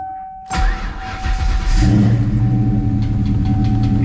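A car engine cranks and catches after a jump start from a portable booster box, then settles into a loud, steady rumbling idle with a slight rise in revs, close by and free of talk.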